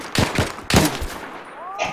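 Gunshots from World at War multiplayer: a few loud, separate shots close together over the first second, then quieter game sounds with faint voices.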